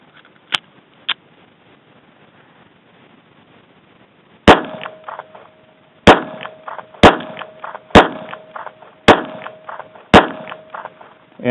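A SIG P238 pistol loaded with an aftermarket magazine fires a string of loud, sharp shots at roughly one-second intervals, each followed by a short ringing tail, after a couple of faint clicks.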